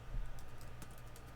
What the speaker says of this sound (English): Can you guys hear that typing?